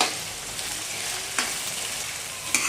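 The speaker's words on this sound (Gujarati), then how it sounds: "હવે ફરી બધું મિક્સ કરી લઈએ અને થોડીવાર માટે આદુ મરચાંની પેસ્ટને સાંતળી લઈશું" Ginger-chilli paste sautéing with onions in a pan, a steady bright sizzle throughout with a couple of sharp spoon scrapes or taps, fairly loud and close, no speech.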